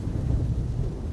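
Deep thunder from a vast storm rumbles steadily on its own, a continuous low, dense roll that holds at a constant level with no voices over it.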